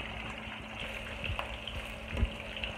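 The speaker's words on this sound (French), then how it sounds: "Voilà, j'ai mis l'oignon." Chopped onion frying in a pot for saka saka, a steady low crackle and sizzle with a few louder pops and clinks, no voices.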